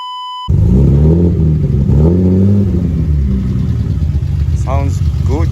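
A BMW E30 with a 318 body and a 320 engine revs loudly and close by in a rough, rising and falling rumble, and a brief high squeak cuts in near the end.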